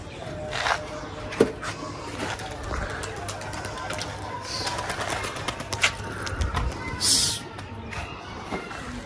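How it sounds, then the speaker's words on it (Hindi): Pigeons released by a keeper take off, with cooing, bursts of wing flapping and outdoor rustle over a busy open-air background, while someone talks at moments. "ये दोस्तों माशाल्लाह कबूतर उड़ा दिए"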